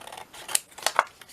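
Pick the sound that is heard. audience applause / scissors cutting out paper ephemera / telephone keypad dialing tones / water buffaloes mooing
scissors cutting out paper ephemera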